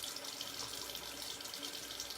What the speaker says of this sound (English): Drying out a little, put a little bit of water on there,